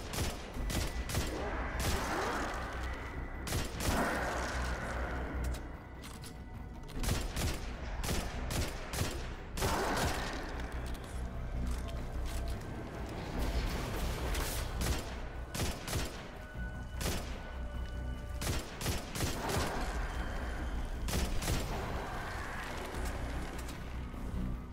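Rapid auto rifle fire in Destiny 2, with long chattering bursts of gunshots broken by brief pauses, sharp and loud throughout with no voices.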